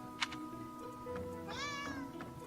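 A cat lets out a single clear, close meow partway through, after a brief sharp click, over a low steady background hum.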